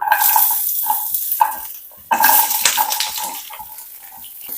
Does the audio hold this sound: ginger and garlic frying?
yes